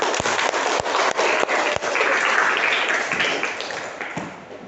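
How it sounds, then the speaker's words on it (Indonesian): A classroom group claps for classmates after a presentation: a few sharp separate claps at first, then a dense, fairly close round of applause that fades gradually. "Kita beri aplaus untuk kelompok 1"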